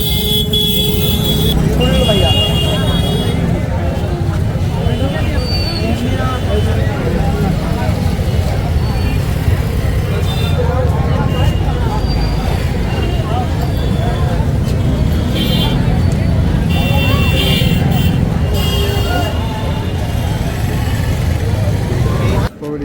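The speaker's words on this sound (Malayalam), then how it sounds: "എല്ലാ വണ്ടിയും ഹോൺ അടിക്കണോണ്ട് തന്നെ എന്തൊക്കെ കേൾക്കണുണ്ടെന്ന് ഒന്നും അറിയാൻ പാടില്ല" Vehicle horns honk over dense, constant street traffic near the Kashi Vishwanath temple in Varanasi, with engines rumbling throughout and a voice talking over the din.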